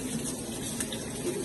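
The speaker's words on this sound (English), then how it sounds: "I'll just wash my hands again." Hands are washed under running tap water at a kitchen sink while water boils nearby. The stream hisses softly and steadily, with faint splashes and no talking.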